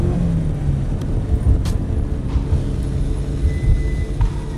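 Porsche 944 Rothmans Turbo Cup race car pulling away in first gear on a tight street area in Long Beach, with a low, steady engine rumble close by and some background noise.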